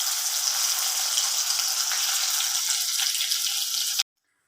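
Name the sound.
potatoes frying in a pan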